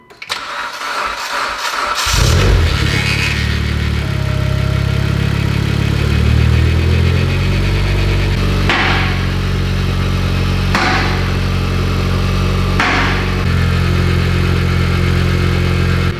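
A Mitsubishi Evo 10 engine cranks and fires at about two seconds, then settles into a steady, loud idle with a faint accessory whine, after fresh serpentine belt work.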